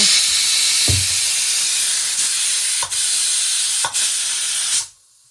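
A mixer grinder (mixie) running, a loud, steady, close whirring roar with a couple of brief dips as it pulses, then cutting off abruptly near the end, with no talking.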